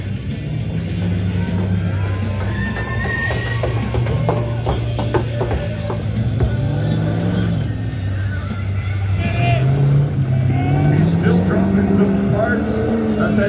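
A big Ford F-250 in an off-road tuff truck challenge, limping along in gear after breaking down, its engine droning and revving unevenly under a commentator's voice and crowd murmur.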